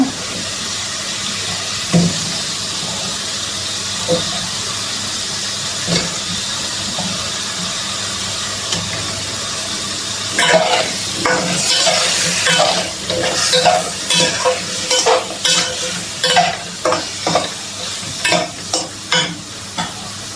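Shrimp and sweet pumpkin fry in a pan of cooked-down spice paste, a steady sizzle that flares louder after the midpoint with repeated bursts of crackling and stirring scrapes, close and without voices.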